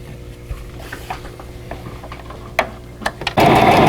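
Light clicks and handling taps of quilt block pieces for a vintage pieced tulip block lead into a sewing machine that suddenly starts up loud and close at the end, running in a dense continuous whirr.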